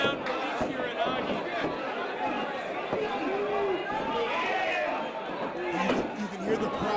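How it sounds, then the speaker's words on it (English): A wrestling crowd settling in during a 30-man rumble for the FSW Heavyweight Championship, steady murmuring babble and scattered voices filling the arena at moderate volume throughout. "You can hear the crowd settling in right now"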